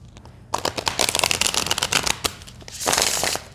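Tarot cards are shuffled in quick riffling bursts, a rapid flurry of crisp flicks, pausing briefly before a second riffle.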